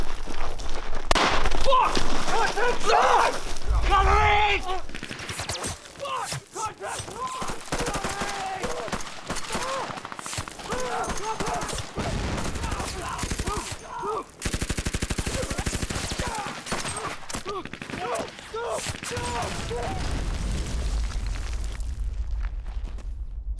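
Gunfire and bullet-impact effects from an action movie scene crack and burst in loud, irregular volleys, interrupted by short gaps, with voices shouting and talking among the shots.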